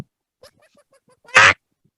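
A person lets out a loud, brief squawking scream imitating a chicken, a single burst lasting about a quarter second after some quiet, faint murmuring.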